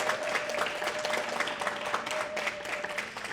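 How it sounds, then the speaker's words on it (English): Audience applause at a community gala in Ottawa honouring a city councillor: a steady wash of many hands clapping at moderate distance, lasting about three seconds with no voices over it. "Can we have a round of applause for that?"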